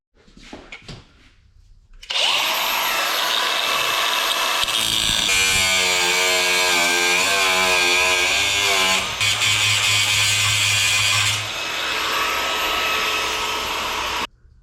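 A power tool, likely an angle grinder, cuts the head off a bolt during a worn-out golf cart repair. It runs as a loud, steady whine for about twelve seconds, its pitch wavering midway, then stops abruptly.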